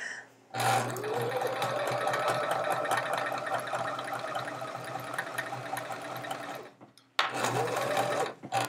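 Sewing machine stitching rows of a chevron quilt runs in a steady, close whir for about six seconds, stops briefly, then starts up again for a short second burst.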